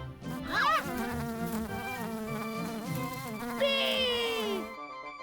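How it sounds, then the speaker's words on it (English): Cartoon bee buzz in a toddler first-words animation, a rising whiny buzzing tone that swoops up early, holds steady over background music, then returns brighter near the end before cutting off. "Bee!"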